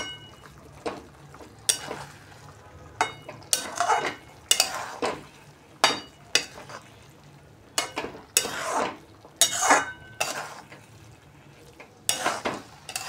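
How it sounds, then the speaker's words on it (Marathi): A spoon stirs amla chunda, a thick Indian gooseberry relish, in a pot with repeated scraping and clinking strokes at an uneven pace, close and fairly loud. "छान मिक्स करून घ्यायचंय."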